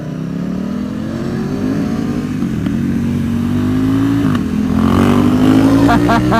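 A Ducati XDiavel motorcycle accelerating under throttle, its engine note rising steadily and growing louder over several seconds, close by, with voices faintly present underneath.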